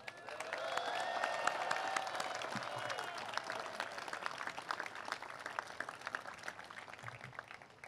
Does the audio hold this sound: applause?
yes